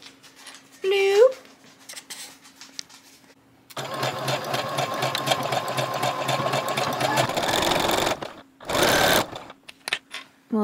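A sewing machine stitches a pocket and leg seam on a two-piece garment set. It runs steadily and close for about four seconds, then gives shorter bursts, after a brief high tone near the start.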